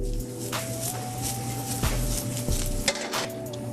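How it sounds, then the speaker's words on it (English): Onions sautéing in a hot pan give off a steady low sizzle, broken by stirring, a couple of sharp metallic clinks from the pan and utensils, and a faint tonal hum in the background. "Saute this onions up."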